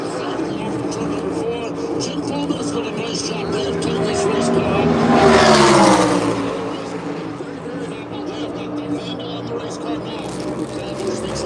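A race car engine roars during a live stock-car race, a broad, steady mechanical drone that swells as a car sweeps past near the middle and then fades back into the continuous track noise.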